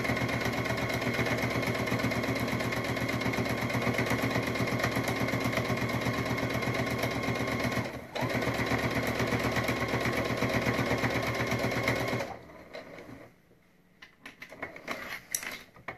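A Brother sewing machine runs steadily stitching the lining of a triangle pencil case, a loud continuous mechanical whir with a brief pause midway, then stops and leaves quieter clicks and handling noise.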